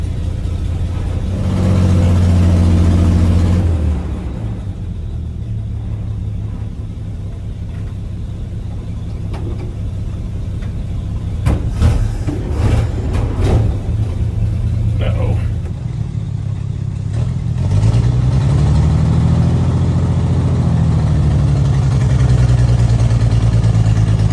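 A car engine idles and revs while the vehicle backs up in reverse, a steady low rumble with a few rising revs, clicks and knocks, and people talking over it.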